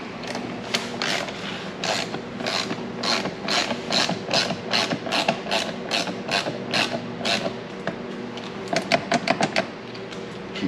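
A ratchet tightens the top part of a door lever on a Can-Am Maverick X3, giving a steady run of close, crisp clicking strokes, then a quicker burst of clicks near the end.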